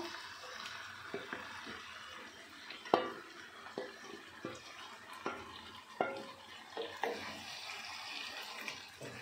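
Marinated chicken goes into a pan of potatoes for a chicken curry and is stirred, making faint scraping and irregular light clinks of a utensil against the pan, quiet and close.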